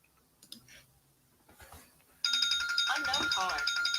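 Phone ringing from an unknown caller, an electronic ringtone that starts abruptly and keeps sounding steadily, close and clear after quiet background noise and a few faint clicks.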